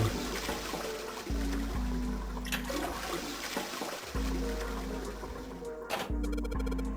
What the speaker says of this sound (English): Can I flush this one too?